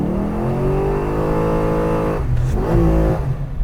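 A Pontiac G8 engine holds hard against the rev limiter in second gear, a loud, close, buzzing drone that stutters briefly before catching again at high revs.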